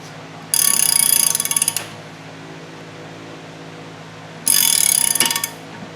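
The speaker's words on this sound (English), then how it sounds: "simply ratchet the wrench and you'll start to feel a little bit of pressure" A 1/2 inch wrench ratchets on a pull stud in two bursts of rapid metallic clicking, each lasting about a second, close and loud with quiet between.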